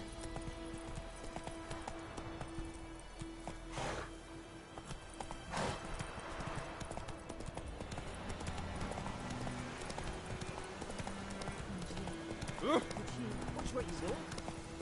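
Roach, the horse from The Witcher 3, gallops with steady hoof clatter over ambient game sound, and a brief whinny breaks through near the end.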